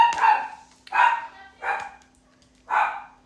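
A female dog barks four times in short, sharp bursts, spaced unevenly and fairly close, with quiet pauses between them.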